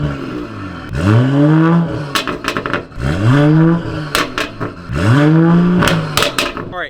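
Exhaust on a stock Mercedes E53, three repeated revs that each rise in pitch then drop back, with crackling pops between them, loud and close.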